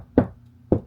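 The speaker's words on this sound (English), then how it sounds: "And then knock test, I'm pretty sure there's a stud right there." Two loud, sharp knocks on a wall while checking for a stud behind it, spaced about half a second apart, each a dull hollow thud heard up close with no talk.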